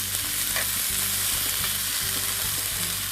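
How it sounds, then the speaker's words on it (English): Green peppers and tomatoes sauté in oil in a pan, a loud, continuous close sizzle with light stirring scrapes and no speech. "green peppers, and tomatoes, and I'm going to saute those in the oil"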